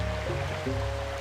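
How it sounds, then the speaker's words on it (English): Steady rushing water from a stream in The Legend of Zelda: Wind Waker, near the Forbidden Woods, a continuous broadband flow with faint background music tones. "that water's really loud over there."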